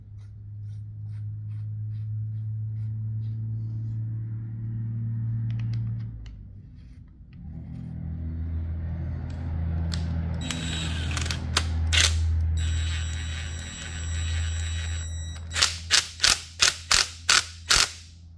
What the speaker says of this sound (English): I'll put this cap back on.